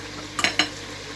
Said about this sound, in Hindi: और साथ ही हम हरी मिर्चें भी शामिल कर देंगे, टमाटर भी शामिल कर देंगे। इसको हम 2 से 4 मिनट जो है वो अच्छे से फ्राई करेंगे